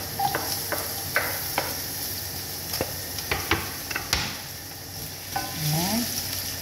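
Chopped onion frying in two tablespoons of coconut oil, a steady low sizzle under intermittent sharp clicks and scrapes of stirring, with a brief squeaky scrape near the end.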